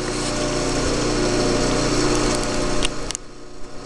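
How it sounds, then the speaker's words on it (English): A Clausing machine motor runs at low speed, turning its pulleys in the speed change system, with a dense, steady mechanical hum and whine. A few sharp clicks come near the end as the sound drops slightly. "we can see the motor turning down here and where the pulleys are"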